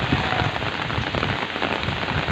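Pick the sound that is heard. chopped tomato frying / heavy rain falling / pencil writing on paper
heavy rain falling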